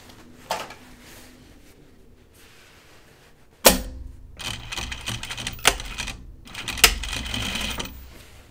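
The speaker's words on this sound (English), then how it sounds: "I better not run out of bobbin thread because I don't like starts and stops in my top stitching" A sewing machine runs top stitching on a pair of Ginger jeans in short bursts, starting and stopping between runs, with a faint click near the start and a sharp knock before the main stitching sets in.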